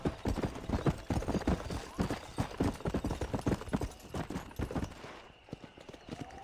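Galloping horse hooves from Red Dead Redemption beat out a fast, steady clip-clop rhythm, close and loud, running continuously with a faint game ambience behind and no talk over it.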